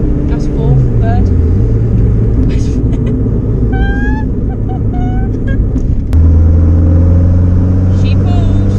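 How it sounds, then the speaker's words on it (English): A modified Renault Clio 182 pulls hard in fourth gear, its engine droning loud and steady from close inside the cabin, with the pitch climbing and a step in tone near the end; a voice talks briefly over it. "just going to do a fourth gear pull"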